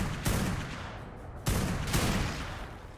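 Sniper rifle fire in the video game ARK Ragnarok, a few loud, booming shots spaced roughly a second apart, each with a decaying tail, heard alone without talk.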